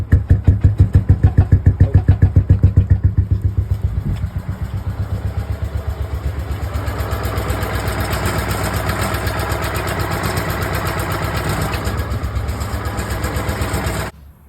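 Kohler 14 horsepower engine fitted in a 1988 Ford Bronco cranks with heavy rhythmic chugging, then catches and settles into a steady, loud, lumpy idle that runs until it cuts off near the end.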